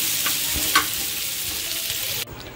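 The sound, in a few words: dried prawns frying on a tawa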